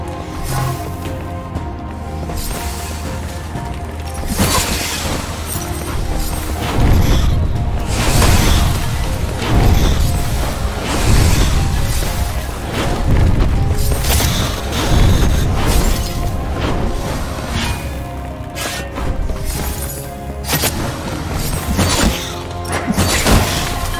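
Repeated booming blasts from the green mana weapon in the Amid Evil shooter game, thudding explosions rolling one after another over a loud music and ambience bed.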